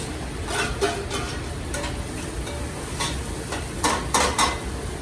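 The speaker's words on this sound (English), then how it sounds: "So now that that bacon is nicely crisp, I'm going to add in about a 1/2 cup diced onions" Diced onions cook in a pan with crisp bacon, giving a constant dense sizzle layered with the scrape and clatter of a utensil against the pan, close and fairly loud.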